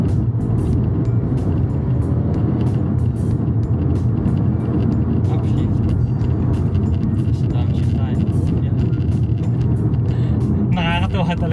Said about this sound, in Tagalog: Tapos ngayon magda-downshift tayo, downshift pa.